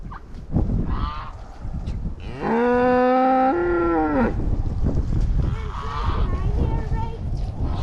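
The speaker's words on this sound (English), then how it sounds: "Why are you mooing, Josie?" A cow lets out a loud, drawn-out moo close by, followed later by a softer second low. People talk in the background around it.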